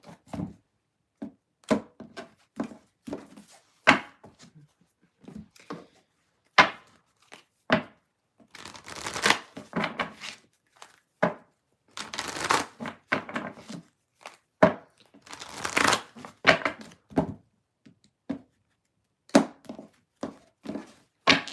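Tarot card decks being shuffled, a series of separate soft slaps and riffling bursts with pauses in between, sounding close and fairly quiet.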